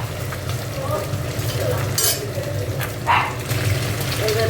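Cumin seeds tempering in hot oil for a bottle gourd ghanto, a steady close sizzle with faint stirring, a bright crackling burst near the end, and a low hum beneath throughout.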